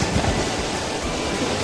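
Water rushing at Sanjay Gandhi National Park in Borivali, a dense, steady roar of flowing water, loud and close, with no voices over it.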